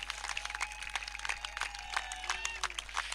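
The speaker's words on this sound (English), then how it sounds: "Let's have a big applause for all of us." Applause at a blind men's national T20 cricket tournament presentation, scattered crowd clapping heard from a distance over a steady low hum, with amplified speech and whistling tones mixed in.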